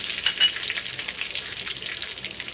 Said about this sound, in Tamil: தாளிச்சுக்கோங்க.